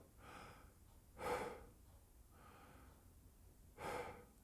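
Close breaths taken while practicing a Charlier etude, four airy inhales in a row, two of them soft and two deeper and louder, with no playing or talking in between.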